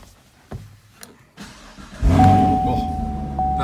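A 2016 Chevrolet Camaro 2SS V8 cranks and fires up, settling into a loud, steady idle after the catch, heard close from inside the cabin with no talking.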